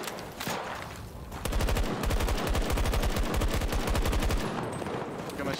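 Gunfire in the shooter game Battlefield 2042: a few isolated shots give way to a long, loud automatic burst of rapid evenly spaced rounds lasting several seconds.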